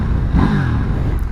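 KTM 890 Duke R motorcycle engine revving up under acceleration, a short, rising, raspy roar heard close by, alone without speech.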